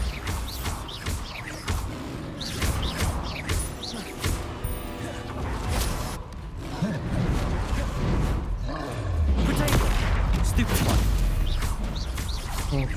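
Bombarda blasting spell in Hogwarts Legacy, a series of crashing blasts and whooshing magic effects over a steady roar of combat, with a voice talking over it.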